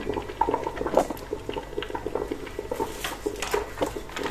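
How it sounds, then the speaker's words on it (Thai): A pot of pork leg soup at a rolling boil, bubbling and popping in a steady close patter of small bursts with no voices over it. "มาดูหม้อกัน ปุดๆแล้วค่ะ"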